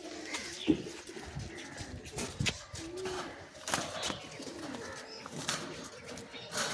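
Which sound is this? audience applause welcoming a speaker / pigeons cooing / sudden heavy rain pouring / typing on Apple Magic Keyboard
pigeons cooing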